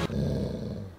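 A dog growls low and steady at close range for about a second, a continuous rumbling snarl near someone eating a meal indoors.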